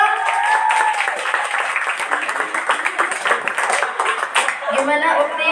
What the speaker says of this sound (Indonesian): Kasih tepuk tangannya sekali lagi dong